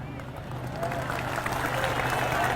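A congregation at a religious sermon breaks into applause, a dense patter of clapping rising and holding steady for a couple of seconds while voices murmur underneath.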